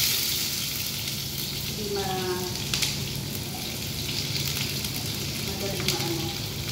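Onions fry in a hot pan for Chinese fried rice, a continuous close sizzle with occasional stirring clatter while a voice speaks briefly over it.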